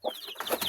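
Young hens, including a black pullet, give a quick burst of clucks and chirpy calls from close range in a brief, lively cluster.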